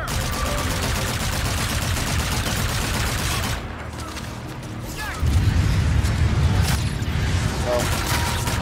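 Sustained gunfire from a firefight in Call of Duty Infinite Warfare: dense, rapid automatic bursts crackle continuously, briefly thin out midway, then return heavier with deeper booming impacts, while voices speak over the battle.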